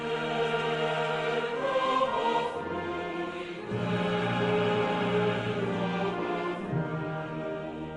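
The Czech national anthem plays steadily as a stately orchestral piece with full brass and strings, sustained chords swelling and shifting in a slow, solemn melody.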